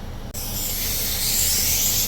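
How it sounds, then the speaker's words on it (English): Cutoff wheel slicing through metal on a Ford Escape, a loud, steady abrasive hiss and grinding roar that kicks in sharply after a brief pause and holds continuously close by. "let me get my cutoff wheel"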